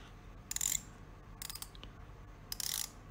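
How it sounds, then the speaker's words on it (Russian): A Casio EFV-120BL watch with a stainless steel case and glossy black one-directional bezel is turned, giving three short bursts of crisp, fine ratchet clicks, close and quiet, separated by silence. "Трещотка работает в одном направлении и позволяет засекать время."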